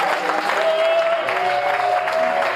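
A church congregation applauds the Lord in a dense, steady burst of clapping that fills the room evenly from start to finish, with faint voices mixed in.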